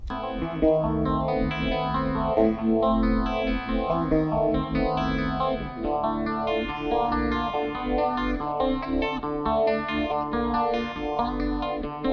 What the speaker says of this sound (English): we have a factory preset. It sort of sounds like a Marshall clean. It has no effects except for some echo.